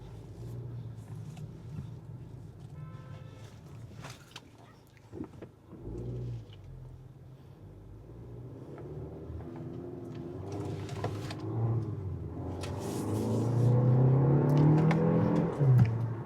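A 2026 Kia K4 GT-Line hatchback accelerates hard in manual mode through a roundabout, engine drone swelling steadily louder over about sixteen seconds with a rising, building tone, heard from inside the cabin.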